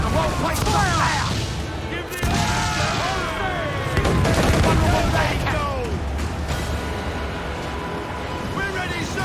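In the pirate naval battle game Assassin's Creed IV: Black Flag, cannons and guns fire in loud booming volleys with crashing impacts, amid ship creaks and shouting crew voices throughout.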